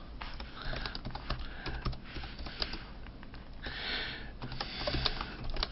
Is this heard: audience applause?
no